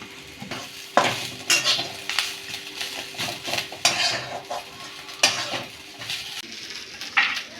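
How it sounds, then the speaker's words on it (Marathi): A fried onion mixture is stirred and sautéed in a pan. Oil sizzles softly underneath while a spoon scrapes and clanks against the metal in irregular bursts, close and fairly loud, with no talk. "एकदा परतून घेऊ."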